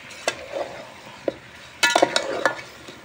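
Potatoes and garlic stirred and sautéed in a pan for chicken curry, with a few scattered spoon scrapes and clinks, then a louder burst of sizzling and stirring toward the end.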